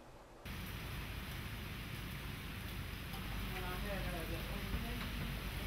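Heavy rain during a third straight day of nonstop rainfall on a university campus, a steady dense broadband hiss that holds loud and constant from start to finish.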